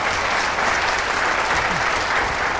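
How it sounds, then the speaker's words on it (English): Audience applause at a live event at Loreto Normanhurst, a steady dense wash of clapping from a crowd that continues evenly throughout without talk. "Can you give them a round of applause for their time here?"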